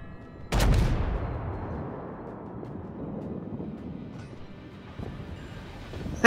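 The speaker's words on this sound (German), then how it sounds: "der wird hart beschossen" Naval gunfire strikes a ship in the World of Warships game: one sharp, loud blast rolls into a long rumbling decay, followed by a softer thump and a final crack at the end.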